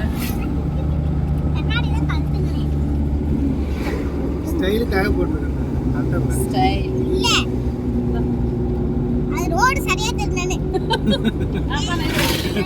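Steady engine hum and road rumble from a car on a family road trip, continuous and close, with people talking over it inside the vehicle.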